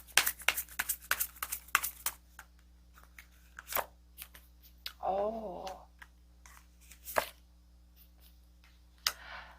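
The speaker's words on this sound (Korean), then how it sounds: "역시나 카드를 뽑아보도록 하겠습니다" Tarot cards shuffled and drawn by hand, a quick run of close crisp flicks and slaps, then a pause and a few more card snaps, with a brief voiced sound partway through.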